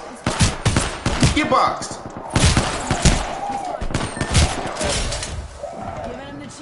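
Gunfire in Apex Legends bursts out in repeated volleys of shots across the clip, loud and close, while players talk and shout over it.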